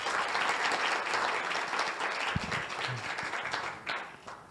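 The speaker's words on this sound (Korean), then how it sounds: "여러분의 뜨거운 박수를 부탁드리겠습니다." Audience at an academic conference opening and awards ceremony applauding steadily, a dense wash of clapping from a large room that gradually thins toward the end.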